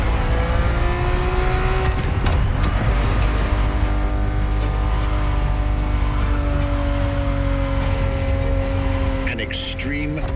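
A race car engine in The Crew Motorfest roars steadily from the cockpit, loud and continuous, with pitch sweeps as it revs and shifts, and a brief squeal near the end.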